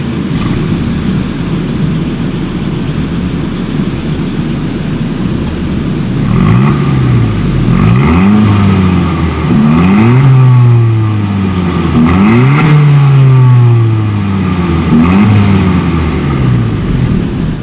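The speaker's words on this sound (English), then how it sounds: "As always, here is that exhaust clip." A 2019 Honda Civic Si with a center-mounted chrome-tipped exhaust idles steadily, then gives a series of sharp revs that rise and fall repeatedly, loud and close, with no talking.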